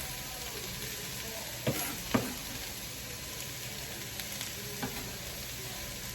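Steady, quiet sizzling of onions frying in a pan, with a few soft clicks and stirring sounds.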